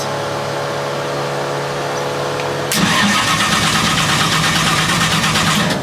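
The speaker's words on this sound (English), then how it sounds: "It coughs and then that's it." A starter motor kicks in and cranks a car engine with rapid, even pulses; the engine coughs but never settles into a running idle, cranking to the end.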